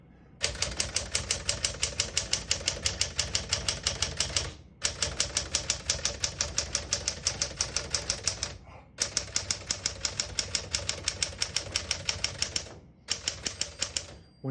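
Rapid, even clacking of keys on a 1964 Smith-Corona Classic manual portable typewriter in three long bursts, each separated by a brief pause, close and crisp.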